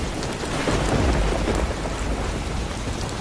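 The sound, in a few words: thunderstorm with heavy rain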